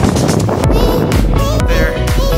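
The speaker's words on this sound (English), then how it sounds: "It's windy," Strong wind roars and buffets the microphone on a steep zigzag road up a hill in Ireland while cycling, loud and continuous with gusty surges throughout.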